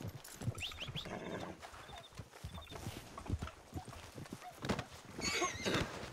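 Horse neighing and hoofbeats in Red Dead Redemption 2 roleplay, with whinnies among clip-clopping steps over a busy game soundscape and people talking.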